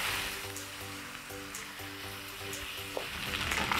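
Fried rice with basil is mixed with stir fry sauce in a pan, giving a soft steady sizzle with a few faint stirring scrapes beneath tonal background music.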